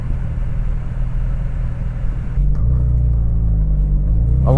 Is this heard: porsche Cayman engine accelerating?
yes